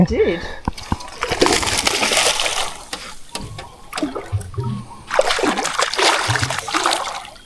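A caught barramundi or saratoga thrashes in a landing net at a Kakadu billabong, with bursts of splashing and spattering water in two main flurries, while people talk nearby.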